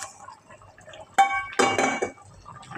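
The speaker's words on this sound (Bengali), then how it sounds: "এখন আমি মাছ ভাজাগুলো দিয়ে দিব" Pieces of fried rohu fish are tipped into a pan of simmering curry, giving a sharp metallic clank followed by a burst of clattering pan noise and sizzling, close and fairly loud, then settling.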